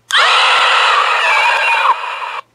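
A loud, harsh, sustained electronic scream from a Halloween horror toy, lasting about two seconds before cutting off abruptly.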